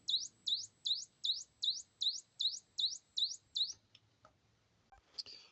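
A run of ten quick, evenly spaced electronic chirps from a homemade siren circuit tuned high, bright and birdlike, followed by a few faint clicks and rustles.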